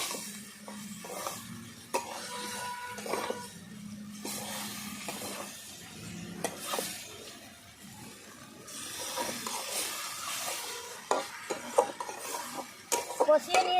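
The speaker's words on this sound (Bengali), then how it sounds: "ভাজা ভেজে রাখা ফুলকপি দিয়ে দিলাম ভালো করে মশলা দিয়ে কষিয়ে নিচ্ছি" Fried cauliflower florets are stirred with spices in a pan for a cauliflower and egg curry, giving soft sizzling under repeated scraping and clinking of a spatula on metal throughout, fairly quiet and without speech.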